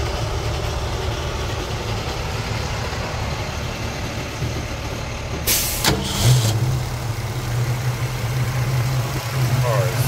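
A 1966 Ford Mustang coupe's 289 V8, fitted with an Edelbrock four-barrel carburetor and aluminum intake, idles steadily and close by, with a brief louder burst midway. Someone talks over the engine.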